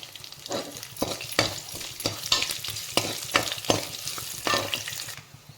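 Garlic sizzles in hot tempering oil in a pan while a spoon stirs it, giving a steady crackle broken by repeated scraping strokes at a close, moderate level, with no talking.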